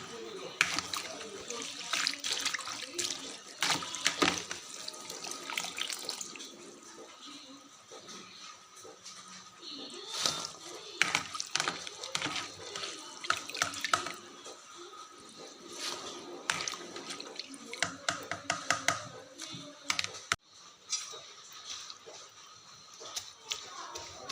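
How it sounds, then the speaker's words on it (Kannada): Food being washed by hand in water, with irregular splashing, squishing and sloshing bursts that start and stop over a long stretch, close by, with a few sharp knocks in between. "ಎರಡು ಮೂರು ಸಾರಿ ಚೆನ್ನಾಗಿ ನೀರಿನಲ್ಲಿ ತೊಳೆಯಿರಿ."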